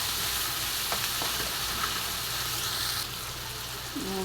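Bitter gourd and tomato fry in a pan with a loud, steady sizzle throughout. A spoon scrapes and stirs through it now and then, and the sizzle eases a little near the end.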